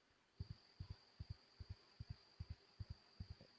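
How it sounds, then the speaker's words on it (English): Steady lub-dub heartbeat thumps in evenly spaced pairs, quiet and low, repeating about five times under a faint constant high electronic whine. "Now I hear a heartbeat."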